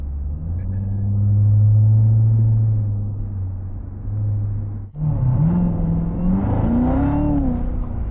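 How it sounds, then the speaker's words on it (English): A Corvette Z06 C7 on a road builds a rising engine rumble that swells and then drops. After a brief break it accelerates again with a climbing, revving whine, close and loud. "I'm just trying to give it a little bit of gas and it just goes"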